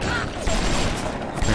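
Rapid bursts of gunfire from a weapon in the video game Bioshock, loud and dense, with a roomy in-game ambience throughout.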